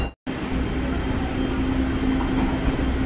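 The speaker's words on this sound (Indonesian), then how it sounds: "Oh, keretanya kereta yang sangat-sangat lama," A very old train rolls past close by in the rain, a steady loud rumble of wheels and carriages with a faint high squeal running through it, no talk.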